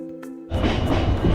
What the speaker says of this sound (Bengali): ট্রেনে আমি উঠে পড়েছি ট্রেন মোটামুটি ফাঁকাই আছে